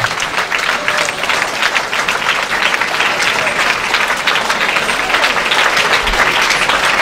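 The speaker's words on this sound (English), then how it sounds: "Can you stand up and give her a resounding appreciation? Please, can we clap for her?" Standing ovation from a university audience at an excellence campaign event at the University of Nigeria, a dense, loud, sustained roar of clapping that holds steady for several seconds with some crowd noise mixed in.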